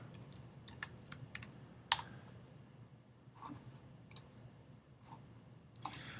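Keys tapped on a computer keyboard to enter a save shortcut in Photoshop, a sparse run of quiet clicks with one sharper press, close and soft against faint room hum, no talking.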